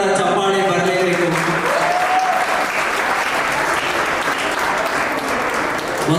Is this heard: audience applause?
yes